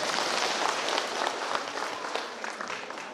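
Steady applause from an audience at a church finance management session, dense and sustained throughout at moderate loudness.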